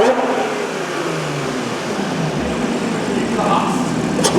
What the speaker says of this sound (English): I just wanna see what it sounds like just free revving in neutral too